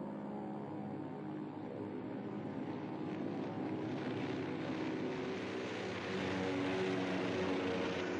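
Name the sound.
WWII American planes flying in the Battle of Midway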